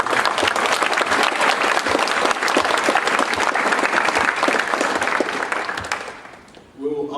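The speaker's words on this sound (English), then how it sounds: "So can we give a round of applause to all these officers?" An audience at an award ceremony applauds for officers, dense sustained clapping that fades near the end as a voice begins speaking.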